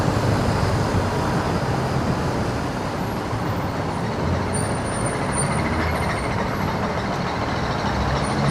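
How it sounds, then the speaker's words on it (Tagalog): An electric bus rolls past on a busy road, with a loud, steady mechanical rumble and the hiss of air brakes riding over constant traffic noise. "Love bus pero electric."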